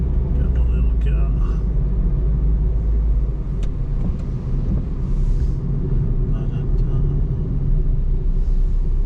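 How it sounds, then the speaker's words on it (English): A small rental car drives through Tahiti with a deep, steady engine and road rumble that strains under load, close and loud, while people talk over it at times. "Come on, little car."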